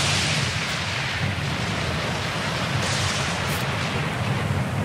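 Wind and rain in a stormy scene from the video game Pillars of Eternity 2, a steady loud rush of rainfall with a low rumbling undertone, continuous and unbroken with no voices.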